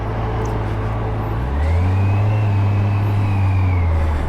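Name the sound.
Kawasaki Versys 1000 motorcycle engine, electric drive-by-wire throttle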